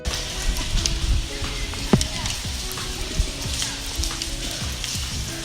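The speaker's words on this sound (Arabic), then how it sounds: "الله على أجواء المطر وريحة المطر." Steady rain falls outdoors with a dense crackling patter of drops hitting surfaces, a few louder close splats standing out against the continuous hiss.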